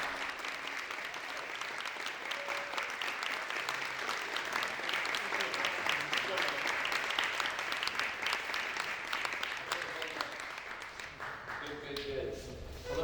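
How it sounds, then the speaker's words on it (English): A live audience in a Texas venue claps and applauds for actor Matthew Modine as he is welcomed onstage, steady dense clapping throughout with a few voices faintly underneath, tapering slightly at the end. "please put your hands together and let's welcome Mathew Modine"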